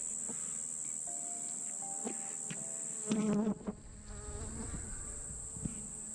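A continuous close buzz of honey bees fills an open hive during an inspection, holding steady with a short louder burst and some handling noise partway through; no speech.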